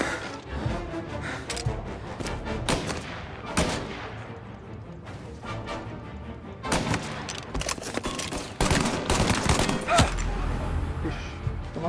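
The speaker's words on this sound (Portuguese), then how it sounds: "olha os caras atirando aqui" Bursts of gunfire from thugs in the Mafia Definitive Edition video game crack repeatedly, sharp shots and rapid volleys scattered across the scene with rumbling game ambience between them.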